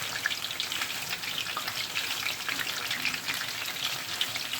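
Parsley stirred and sautéed in a frying pan on a stovetop, giving a steady close sizzle with soft scraping from the stirring throughout, no voices.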